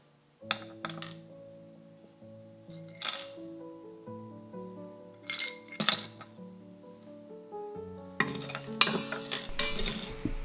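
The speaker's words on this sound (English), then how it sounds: "we're going to take all of the spices for the pho broth and we're going to toast them dry in the Instant Pot on the sauté setting" Dry whole spices for pho broth are stirred in an Instant Pot on the sauté setting, making close, clicking clinks and scrapes against the metal pot in irregular bursts with no talking.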